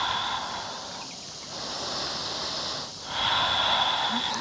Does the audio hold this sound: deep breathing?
yes